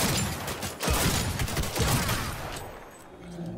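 A gun in Cyberpunk 2077 fires a long, rapid automatic burst, a close, loud string of crackling shots lasting several seconds before tapering off, with no voices.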